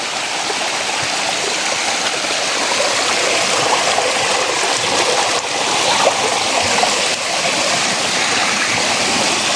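A stream flows outdoors in a loud, continuous rushing wash of water, steady and close throughout with no break.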